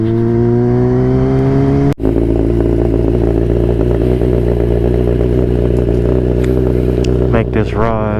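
A Kawasaki ZX-10 sport motorcycle on a ride home, its engine droning loud and close throughout, with a rising rev at the start, a brief cut near two seconds, then steady running with wind and road noise.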